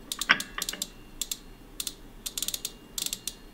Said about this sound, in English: You get that freewheel sound.